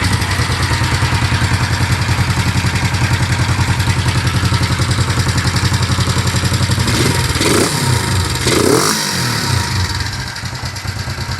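A 1970 Honda CL350 motorcycle engine with newly fitted carburetors on stock jets runs at a steady, loud idle with clattery firing, then two quick throttle blips rise and fall near the end.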